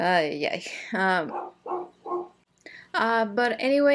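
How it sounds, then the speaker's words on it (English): Several dogs bark and yip in short bursts indoors while a person talks over and between them. "I don't know what's gotten into the dogs. If they decided to start barking while I began doing this."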